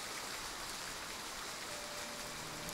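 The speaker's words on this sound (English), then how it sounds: "Rain! Honest to goodness, rain!" Steady rain pours down in the video game Triangle Strategy, a dense, even hiss of falling water that holds constant throughout with no voices over it.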